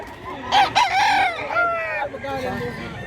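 A big-sized, one-year-old rooster crows loudly and close at a livestock market in Mantalungon, Cebu, a long harmonic call with rising and falling pitch over a steady crowd murmur.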